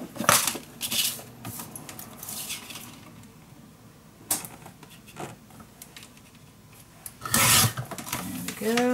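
Paper is cut down to size for the back of an accordion page, with scratchy slicing and rustling strokes in irregular bursts, a loud handling noise near the end.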